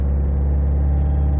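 A Peugeot 308 engine holds steady at about 2000 rpm, a loud, close, continuous low hum with a smooth, even drone and no change in pitch over the short stretch.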